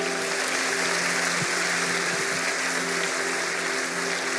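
Applause from a church congregation, a steady broadband clatter of many hands that holds evenly throughout, with a low sustained hum underneath and no clear talk.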